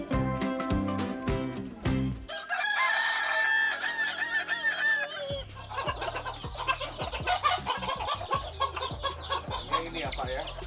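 Kukuak Balenggek roosters, a Minangkabau breed known for long multi-syllable crows, call repeatedly, with loud close crowing and clucking and several birds overlapping in rhythmic, stuttering phrases.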